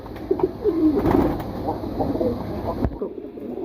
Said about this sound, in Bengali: এটা হচ্ছে একটা নর কবুতর দেখেন নর এটা সাথে একটা মাদিও আছে